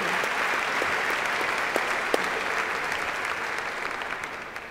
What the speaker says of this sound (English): Can we give a round of applause for Europe and Paris for what they've done?